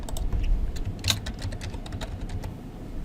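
A computer keyboard clicks through a run of quick keystrokes as a collection name is typed, steady and close over a low background hum.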